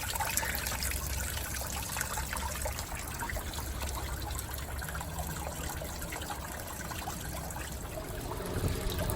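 Rusty, foul-smelling water pours and splashes steadily from the cooling system of a GM PD-4106 bus as it is flushed, a continuous close trickling gush with no pauses.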